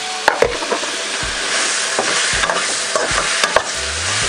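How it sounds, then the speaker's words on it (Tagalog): Shiitake mushrooms sautéing in a pan, a loud steady sizzle broken by repeated sharp knocks and scrapes of a utensil, close up with no voices. "Ngayon po ay gigisahin ko na rin po itong ating shiitake mushroom."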